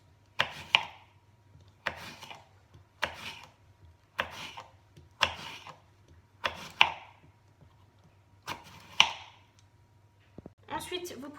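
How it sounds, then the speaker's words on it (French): A knife chops persimmon (kaki) into small cubes on a board, eight or nine crisp, evenly spaced thuds close up, each followed by a brief rustle, with quiet surroundings. "Donc, vous allez le couper en petits cubes."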